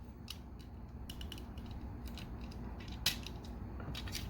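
Plastic joints on a Masterpiece Transformer MP-17 Prowl toy robot click faintly in scattered small ticks as its doors are angled back, over a steady low background hum.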